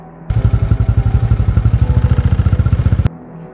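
A motorcycle engine idles with a rapid, steady chugging pulse for about three seconds, then cuts off abruptly, leaving near silence.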